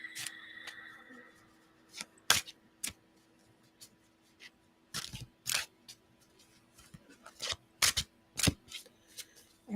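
Metatron oracle cards are shuffled in a quiet room, giving sharp, crisp riffling bursts at irregular intervals with short pauses between, close and fairly loud against a near-silent background.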